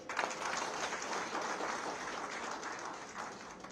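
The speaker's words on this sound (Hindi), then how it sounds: "आप सभी लोग उनके स्वागत में जोरदार से ताली बजाएं" Indian expatriates at a welcome event in Dubai clap for Uttarakhand's chief minister, Pushkar Singh Dhami, a continuous rush of applause at a moderate, fairly distant level that softens gradually toward the end.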